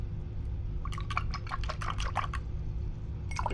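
An acrylic paintbrush is swished and rinsed in a cup of water, giving a quick run of close splashing, sloshing strokes over a steady low hum, then a brief final swirl.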